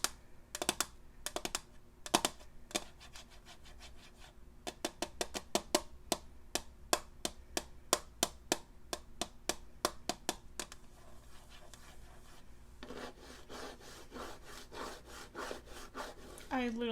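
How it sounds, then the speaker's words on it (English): Crisp metallic taps and clicks on a metal tin of markers, some in quick runs and others spaced apart, followed by a stretch of rattling and scraping, all close and fairly quiet. "I have this tin of markers, and I really like the actual like metal sound"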